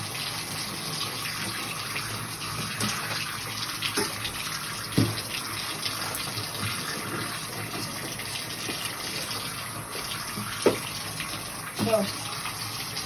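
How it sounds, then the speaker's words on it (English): Water running steadily into a bathtub from the tap during tub cleaning, a continuous loud gushing rush with a few faint knocks and handling sounds and no clear talking. "y'all should be cleaning your tub out"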